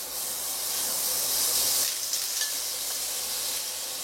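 Butter sizzling in a hot pan for crêpes Suzette sauce, giving a loud, steady frying hiss close up that swells briefly and then settles.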